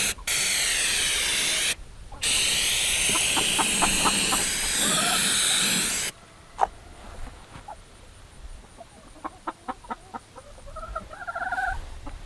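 Flex Seal spray hissing in long bursts while coating a chicken feeder, with chickens clucking nearby between and after the sprays.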